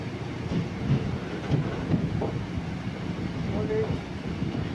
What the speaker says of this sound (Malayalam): ഒന്ന് സ്ലോ ആക്കിക്കൊണ്ടാണ് നമ്മുടെ ട്രെയിൻ പ്ലാറ്റ്ഫോം നമ്പർ ടൂവിൽ കൂടെ പൊയ്ക്കൊണ്ടിരിക്കുക